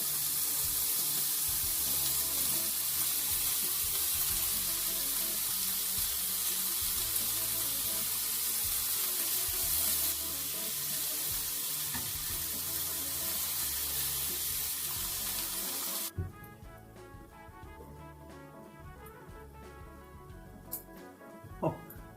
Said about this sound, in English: So the veggies are sizzling.